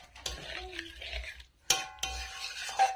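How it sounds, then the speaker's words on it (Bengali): A spoon stirs coconut milk into prawns in a pan for Bengali chingri malai curry, giving soft scraping strokes, a few sharp metallic clinks and a faint sizzle, fairly quiet and close. "এবার এই চিংড়ি মাছে আমি নারকেলের দুধটা দিয়ে দেব। ভালো করে মিশিয়ে নিচ্ছি।"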